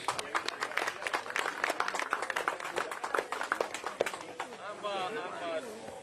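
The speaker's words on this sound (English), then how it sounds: "how about a big round of applause for the 10th annual Republican Trap Shoot here in Newton, Iowa" A crowd applauds at the 10th annual Republican Trap Shoot in Newton, Iowa, with dense, close clapping through most of the clip, then thinning as a voice begins speaking over the end.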